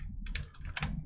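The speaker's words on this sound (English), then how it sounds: "Now I did Control D on my keyboard for duplicate." Key presses on a computer keyboard while working in DesignShop V10 lettering software, a short run of clicky taps close by with no talking.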